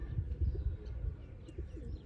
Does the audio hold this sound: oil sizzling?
no